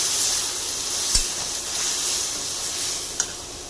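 Paneer frying with yogurt in a pan, a steady soft sizzle and hiss with a couple of faint knocks from stirring, and no voices.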